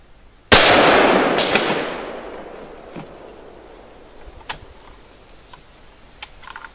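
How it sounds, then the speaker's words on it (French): Three rifle shots fired at a range during a review of Vector Optics Continental riflescopes; one loud sharp report, a second close after, then a faint third, each with a decaying tail and quiet clicks between. "Donc voilà, on a 3 tirs."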